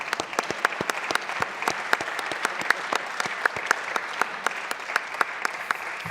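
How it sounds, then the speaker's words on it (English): Sparse, crisp handclaps ring out in a steady pattern from a small audience at an inter-parliamentary meeting in the Belgian House of Representatives, each clap distinct with a slight echo. "Please, an applause."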